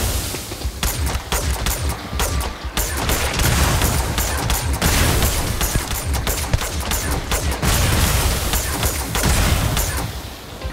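Dense, loud enemy gunfire fills a firefight in the video game Starfield, with rapid overlapping shots and bursts hammering continuously throughout.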